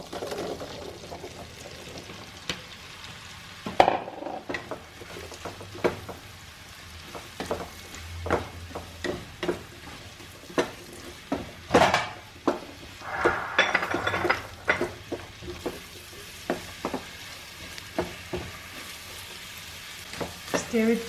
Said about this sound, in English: I'm going to fry this mushroom first.